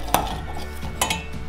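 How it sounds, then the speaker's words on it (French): Chopped shallots tipped into a small saucepan in a kitchen, giving two sharp metallic clinks about a second apart with softer scraping and rattling between them, close and alone. "je les mets dans une petite casserole."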